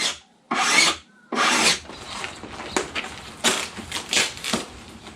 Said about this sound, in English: we used a file to smooth everything out